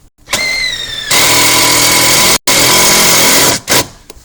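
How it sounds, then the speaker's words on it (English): A power drill drives a self-tapping screw into a Ford Taurus body for a remote-starter ground, whining up in pitch then grinding loudly and continuously, briefly stopping and resuming, up close with no speech. "we're going to use a self-tapper screw, and I'm going to ground to the structure of the vehicle right here"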